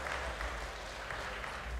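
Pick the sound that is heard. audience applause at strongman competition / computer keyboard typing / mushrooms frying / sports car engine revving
audience applause at strongman competition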